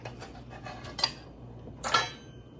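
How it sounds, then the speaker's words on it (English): A knife chopping a whole orange, peel and all, on a cutting board: soft rhythmic cuts with two sharper, louder chops standing out, close up and without talk. "Now I'm just going to chop up this orange, peel and all"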